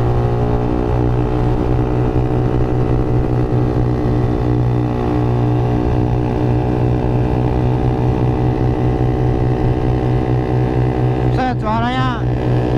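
A tuned Suzuki Satria FU motorcycle engine at speed makes a loud, steady, close droning whine that holds throughout, with a brief voice near the end.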